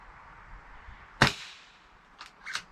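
A single sharp crack of an air pistol firing an H&N Hornet pellet, close and fairly loud, followed by two fainter clicks near the end.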